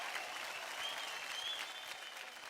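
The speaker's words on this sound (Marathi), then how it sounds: "एकदा जोरदार टाळ्या होऊन जाऊ द्या मास्टर स्वरूप आणि त्यांच्या मित्रासाठी" Enthusiastic audience applause on a televised dance show stage, a dense, even patter of many hands clapping, sustained and fairly close throughout.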